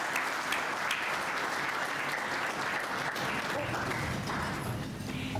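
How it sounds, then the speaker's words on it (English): Steady audience applause fills the room at a building and construction industry apprentice awards ceremony, a dense sustained clapping wash with some murmured voices beneath it. "And a big round of applause for his fabulous work."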